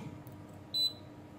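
A multimeter set to diode mode gives one short, clear high beep while probing the pins of an IPM power module. The beep is close and stands alone over a faint low background hum.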